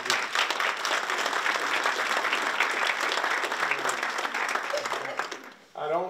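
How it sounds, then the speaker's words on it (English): An indoor audience at a town hall meeting breaks into loud, sustained applause for the head of the town board, dense clapping that fills the room for several seconds before a voice comes back in. "you should give him a big round of applause"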